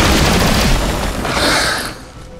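Gunfire in XCOM: Chimera Squad, a loud close burst of rapid shots that rolls into a boomy tail and fades after about two seconds, with no talk.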